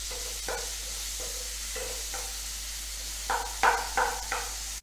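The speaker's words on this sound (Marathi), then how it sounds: "हिरवी मिरचीचे तुकडे टाकायचे कांदा टाकायचे आणि चांगलं सगळं परतून घ्यायचं" Onion, green chili pieces and garlic-coriander paste sauté in a pan under a steady soft sizzle, with a series of scraping stirs from a spatula that come faster and louder toward the end.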